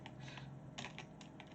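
Quick bursts of keystrokes on a computer keyboard as a command is typed, a handful of close, soft clicks in short runs.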